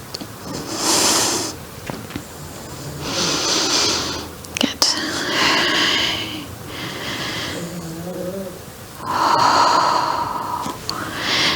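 Slow, deep breathing during a second-trimester Pilates exercise, several drawn-out hissing exhales and inhales, close and fairly loud, with a soft voiced murmur between breaths.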